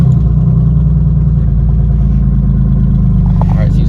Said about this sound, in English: seems to be idling pretty smoothly. Again, it is the cold start